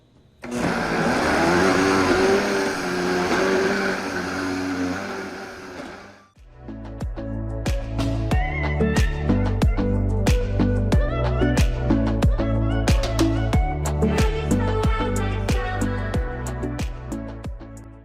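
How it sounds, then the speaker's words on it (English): A high-powered blender whirs loudly as it blends a green protein smoothie, running steadily for several seconds, cutting off briefly, then starting again with a rougher, chopping churn of ingredients that keeps going to the end. "So let's get blending."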